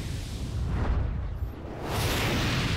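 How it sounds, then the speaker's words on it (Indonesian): A bazooka in Resident Evil 4 fires and explodes, giving a booming low blast with a rushing whoosh that swells again toward the end. "Pakai basoka pakai basokanya nih."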